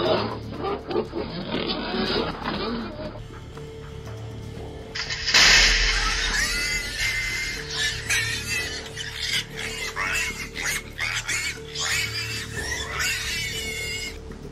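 Wild boars grunting and snorting near a trap, heard through a monitoring camera: irregular low grunts and squeals over outdoor background noise, with a louder burst partway through.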